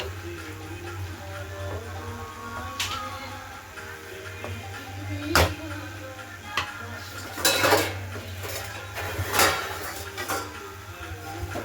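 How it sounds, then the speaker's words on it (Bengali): A lid is set onto a pan of potato, onion stalk, cauliflower and flat-bean vegetables cooking on the stove. Several metallic clanks and knocks ring out over a steady low hum. "এবার ঢাকনা চাপা দিয়ে দেবো 5 মিনিটের মতন।"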